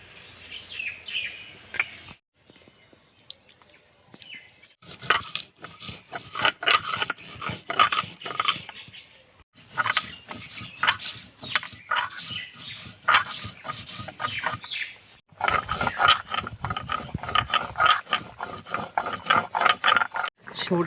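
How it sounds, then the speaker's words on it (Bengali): Mustard seeds and green chillies are ground into a paste with rhythmic, rasping back-and-forth scrapes in three long bursts separated by short pauses, close and fairly loud, with birds chirping faintly behind. "আমি এদিকে কাঁচা লঙ্কা সর্ষেটা বেটে নেব একসঙ্গে করে"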